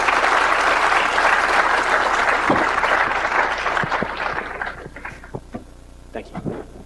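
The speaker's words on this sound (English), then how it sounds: "please join me with a warm round of applause for Dr." Audience applause for a keynote speaker at a 2013 tech innovation finals event, a dense sustained ovation of many hands that thins out into scattered individual claps toward the end.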